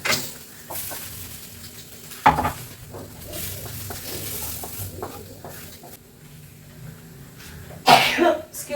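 Someone coughs from the fumes of dried red chillies frying in a pan. Two sharp, loud bursts stand out over a low kitchen sizzle and faint stirring noises.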